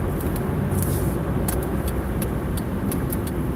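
A car pulling into a gas station off the New York Thruway, its engine and road noise a steady close rumble with a few brief high clicks and ticks above it.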